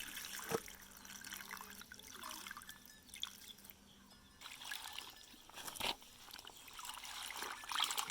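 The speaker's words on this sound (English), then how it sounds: "We want to wash our cassava leaves." Cassava leaves being washed under running water for a recipe, quiet dripping and trickling with soft sloshes and a few small splashes, close and faint, with no talking.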